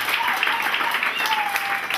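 Audience applause at a May Day (Labour Day) ceremony for a woman receiving a silver medal, steady broadband clapping throughout with some voices mixed in.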